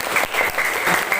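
Children in an elementary school science class break into a burst of hand clapping that holds steady and dense for just over a second, filling the room without any talking over it.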